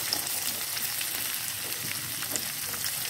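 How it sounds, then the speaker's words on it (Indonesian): Chopped onions are sautéed in a pan for a soy sauce egg dish, producing a steady, soft sizzle and crackle throughout at low volume, with no voices. "selanjutnya kita tumis bawang yang kita potong tadi"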